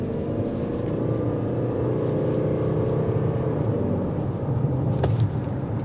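A 2024 Toyota Crown Limited's engine revs under hard acceleration, a steady loud droning hum with rising tonal whine filling the cabin throughout, no voices over it.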